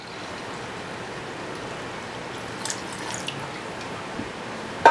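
Water poured into a pot of pulled pork for braising after orange juice and cider vinegar, a steady soft trickling stream that runs continuously and ends with a small clink.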